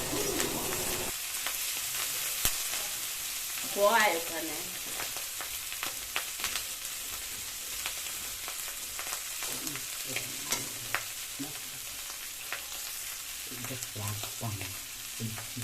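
Prawns fry in a wok for a spicy chingri curry, making a soft, continuous sizzle broken by occasional stirring clatters, with a faint dove-like coo in the background and no voices.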